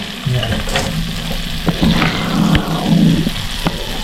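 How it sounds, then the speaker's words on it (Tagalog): Onion, garlic and ginger sauté in a little hot oil, a steady close sizzle with scraping stirs and occasional clinks over the frying. "Yan natin yung konting mantika mga kalaki, at sasangkot na natin ang sibuyas, bawang at luya"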